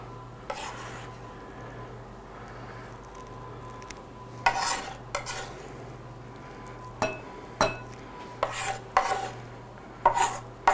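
A chopped ingredient tipped onto spinach in a home kitchen, followed by scattered scraping, rubbing and light clinking bursts of a utensil against a bowl or pan, separated by quiet pauses and a low background hum.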